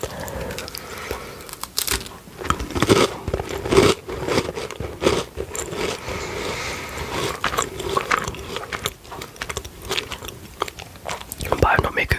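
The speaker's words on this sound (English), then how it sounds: "So it's your classic plain cookie with the milk chocolate chips." Crisp biting and crunchy chewing of a plain milk chocolate chip cookie, close up, with repeated crunches and mouth sounds alongside soft whispering.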